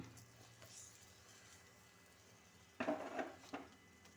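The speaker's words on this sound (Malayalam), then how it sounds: "ഇതിനി ഒന്ന് ചുറ്റിച്ചു കൊടുക്കാം ഒന്ന് ഇളക്കി ഇട്ട് കൊടുക്കണം" A spoon scrapes and clatters briefly against a pot of sardine curry (mathi kuzhambu), a short burst of stirring near the end after near-silent quiet.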